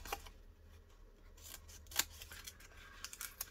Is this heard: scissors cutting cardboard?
yes